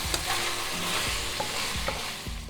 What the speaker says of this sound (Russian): И все вместе обжарим буквально пару минут.